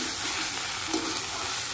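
Cabbage with garam masala stirred in a hot pan, a steady soft sizzle with faint scraping throughout, close and continuous with no talking.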